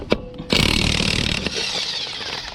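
A Makita 18-volt cordless impact wrench, in use while replacing upper control arms on a 2005 Mazda Bravo ute, fires a loud, buzzing, hammering burst lasting about a second after a short click, then winds down with a softer whir.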